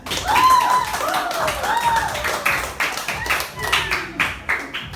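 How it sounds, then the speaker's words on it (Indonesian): Children in a primary school classroom clap for a classmate, a loose patter of hand claps with brief bright tones and chatter mixed in, rising and falling over a few seconds. "Tepuk tangan dulu untuk temannya"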